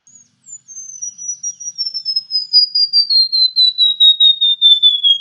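Recorded bird song played back: a long run of high, thin notes repeated in quick rhythm, slowly dropping in pitch and growing louder, clear and alone against silence.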